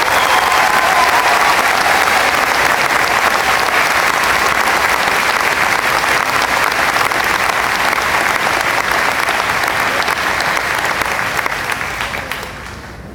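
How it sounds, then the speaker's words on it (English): A large audience at a Dominion High School ceremony applauds in a dense, sustained roar of many hands, holding loud and steady for about twelve seconds before tapering off at the end. "Let's give them a round of applause"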